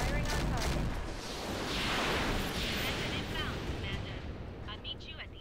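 Deep artillery fire booms and rumbles in the mech combat game RogueTech, a long rolling barrage of blasts and debris that trails off toward the end.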